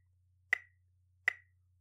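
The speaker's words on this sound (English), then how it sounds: "If we counted this with our metronome, it would sound like this." Two sharp, crisp metronome clicks, evenly spaced about three quarters of a second apart, each short with a brief ringing tail over near silence.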